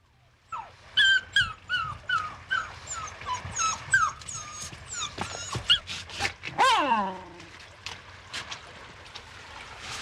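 A dog named Jasper whimpers and yelps in high, wavering cries, with a sharper bark-like outburst near the middle, fairly close over a low background hum and faint voices.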